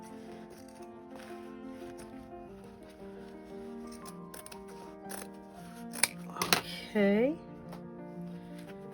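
Scissors cut across paper for a handmade spring journal, a few crisp snips near the mic over steady background music, with a person speaking briefly.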